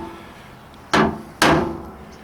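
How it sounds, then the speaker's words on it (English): A hammer strikes a 1968 AMX body part twice to knock it loose, two sharp, loud metallic knocks about half a second apart, close up, with no talking. "I'm just going to try to tap it and break it loose"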